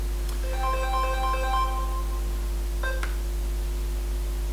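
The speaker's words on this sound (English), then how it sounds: "Phone call." A phone rings with a work call, its melodic ringtone of repeated electronic tones playing loudly over a steady low hum, pausing briefly, then sounding again.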